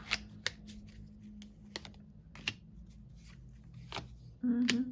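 Light papery riffling and soft card taps repeat in short bursts, with a voice briefly speaking near the end.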